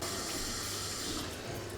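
Water poured into a pot for chicken pulao, a short continuous gushing splash that holds steady for under two seconds.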